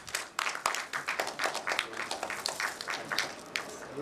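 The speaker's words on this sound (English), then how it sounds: "Let's have a huge round of applause." Audience applause at a retail industry conference, a brief burst of clearly separated claps from a smallish crowd, moderately close and fading toward the end.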